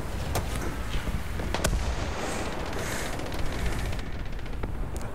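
A 20mm Oerlikon cannon fires in the War Thunder tank game, giving a few sharp, loud blasts spaced through steady rumbling battle noise, with no voices.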